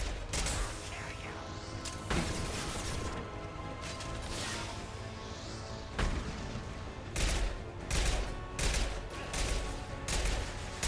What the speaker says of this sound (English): how the hell are you still able to shoot rockets?